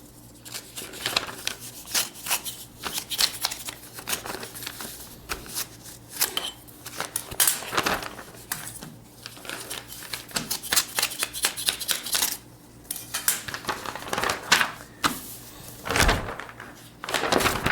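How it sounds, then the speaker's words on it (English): An envelope being opened up close: continuous crinkling and rustling paper mixed with small thumps and handling knocks, fairly loud and with no talking. "Let me open this envelope."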